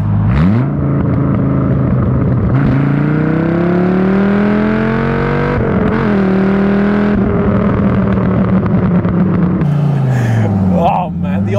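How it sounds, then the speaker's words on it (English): A Dodge Viper GTS roars through a loud second-gear pull, its engine note climbing steadily in pitch, dropping briefly at a shift, then rising again close up before easing off. "Let's do a second gear pull here."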